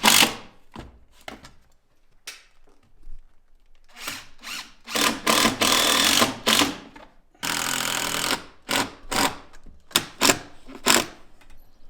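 Power drill driving screws to fix a glued part, clamped in place, during window and frame installation: repeated short bursts of whirring, stopping and restarting unevenly, fairly close.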